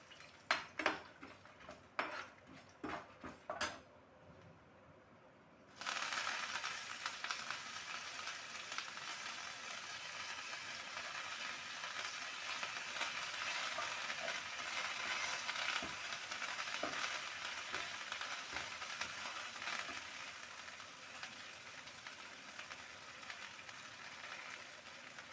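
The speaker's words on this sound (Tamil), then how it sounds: "இதை கொஞ்சம் கொஞ்சமா சேர்த்து நான் வறுத்து எடுத்துட்டு போறேன்." Curry leaves roast in a pan for curry leaf powder: a few light clinks and scrapes come first, then a loud, steady sizzling hiss runs unbroken from about six seconds to the end.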